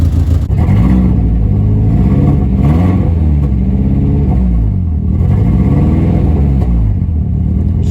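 A high-mileage VW Passat B5 with a 1.8T turbo engine runs loudly up close, its deep rumble rising and falling through repeated revs, and no one speaks.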